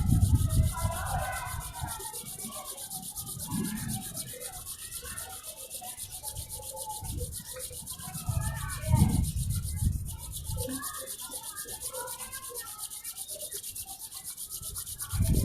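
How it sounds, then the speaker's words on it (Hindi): Two hands rubbing briskly together during a yoga session, a steady close-up friction swish that runs for the whole stretch with a few louder surges. "अब आप दोनों हाथों को रब करें आपस में।"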